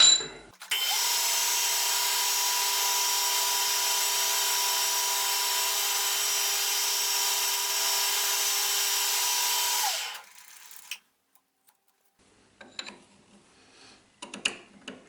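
A drilling machine cuts a 10 mm deep recess, its loud, steady whine running unbroken for about ten seconds, then stopping abruptly, followed by faint handling clatter.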